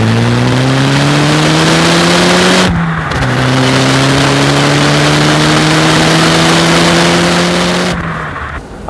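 A GTR from a road, rat and track build revs hard under acceleration, its engine note climbing loudly and steadily, dropping sharply at a gear change, then rising again through the next gear before easing off.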